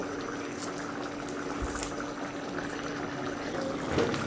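Surma fish curry with potatoes simmering in its gravy, a soft continuous bubbling and hiss close by with a few faint clinks.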